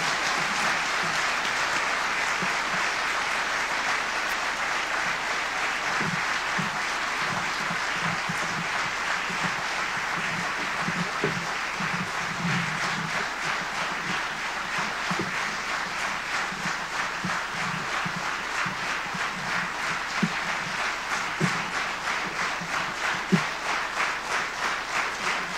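Audience applause fills a gala hall at a Polish political event, a dense, sustained roar of clapping from a large crowd with steady rhythmic patches, loud and continuous throughout.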